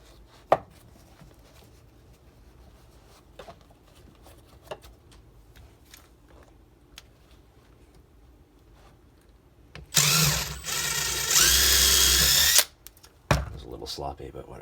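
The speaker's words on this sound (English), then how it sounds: "let's drill out this side" After scattered quiet clicks and knocks, a power drill whirs loudly for about three seconds, drilling a homemade welding hand shield, pauses briefly, then gives one more short burst.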